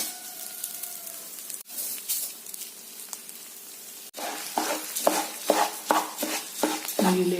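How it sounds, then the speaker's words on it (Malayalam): Washed rice sizzles and crackles as it fries in hot ghee for beef biryani, with scraping stirring strokes against the pan. The clip opens quieter and grows into louder, rhythmic sizzling bursts in the second half. "പിന്നെ കഴുകി വരച്ചിരിക്കുന്ന അരി അതിലേക്ക് ഇട്ട് വറക്കുന്നു."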